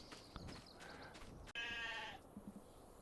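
A sheep bleats once, a clear mid-length cry inside a sheep barn in Farming Simulator 25, set against a low, steady background ambience and a few faint clicks.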